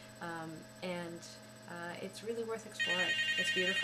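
A mobile phone rings in an abandoned building, a repeating electronic ringtone entering near the end and growing louder while a person keeps talking over it.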